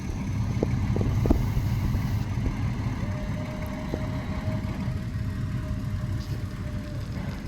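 A DIY FPV speed plane's electric motor running at about half throttle, a steady droning whine with a faint tonal line, constant and fairly loud with no talk.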